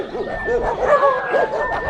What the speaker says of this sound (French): Les chiens.